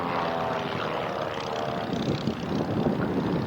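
An aerobatic propeller aeroplane with a 180 hp Lycoming flat-four engine drones steadily at full power as it climbs at an airshow, a loud, continuous buzzing roar with no pauses.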